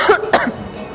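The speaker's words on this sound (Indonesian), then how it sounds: "Dari tadi aku nggak berhenti batuk" A sick woman with a fever coughs twice in quick succession, close and loud, followed by a brief rasping throat sound.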